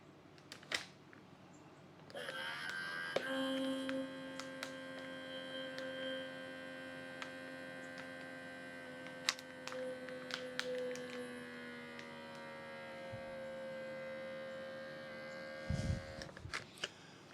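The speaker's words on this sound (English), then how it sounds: "let's put that down on the bag and get that air sucked out of it" A handheld vacuum sealer pumps air out of a reusable food storage bag, a steady, quiet electric whine with a tonal hum that runs for about thirteen seconds, shifting slightly in pitch, then stops with a few handling clicks.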